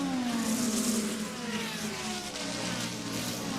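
Race cars at the IMSA Roar Before the 24, including a Lamborghini, a continuous engine drone whose pitch slides downward, heard faintly under broadcast ambience with no clear speech.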